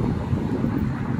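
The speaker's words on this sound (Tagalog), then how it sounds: "Lakas ang hangin." Strong wind buffets the microphone outdoors at Bluewater Dubai, a steady low roaring rush with no voices over it.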